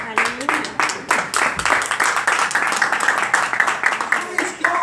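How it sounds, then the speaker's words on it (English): A church congregation at a family conference claps hands together, a dense irregular patter of many claps swelling and holding steady, with voices calling out and talking over the clapping. "Clap your hands one more time."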